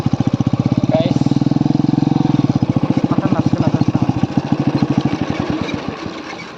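A motorcycle idles near fields, a loud, steady rapid chugging that slows and fades slightly toward the end, with faint voices in the background.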